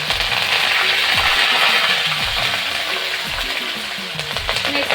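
Mustard seeds, cumin and curry leaves hit hot oil in a heated kadhai, giving a steady, loud crackling sizzle with faint popping throughout.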